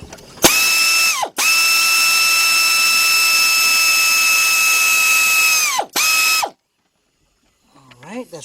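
An air ratchet spins off a 10mm bolt on a Chrysler or Dodge engine, a loud, close, steady high whine in two bursts, one brief and one long, then a short trailing sound.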